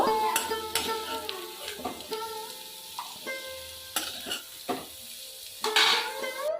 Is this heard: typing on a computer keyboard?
no